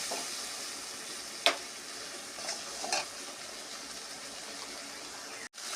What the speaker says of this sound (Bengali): মশলাগুলো কষিয়ে নেবো ভালো করে।